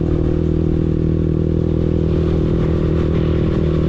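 A TVS Apache RTR motorcycle engine, five years old, runs close by with a loud, steady low rumble and constant drone, no pauses or changes in pitch.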